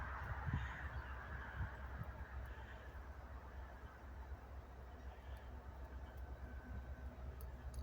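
Birds call from a tree on a cold winter day, giving honking, goose-like calls over a constant low rumble of background noise.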